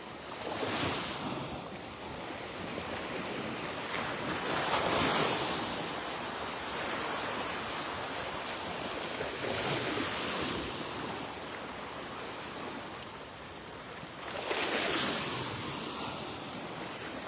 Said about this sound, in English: Maybe just the waves rippling over the outer edge of the sandbar.